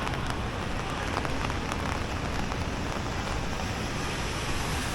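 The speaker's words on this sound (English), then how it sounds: "Ooh, rainy Sunday." Heavy rain falls on a New York City street on a Sunday during a severe weather warning, an even, unbroken wash of spattering drops with faint gusty noise and no talking.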